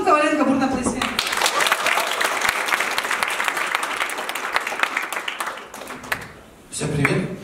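Enthusiastic audience applause for a performer, dense clapping rising after a voice introduces him and holding steady for several seconds before fading as he begins speaking.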